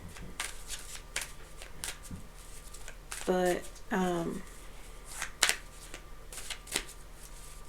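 Tarot cards shuffled by hand during a reading, two distinct riffling bursts in the middle and scattered soft card taps around them, close up under a quiet voice.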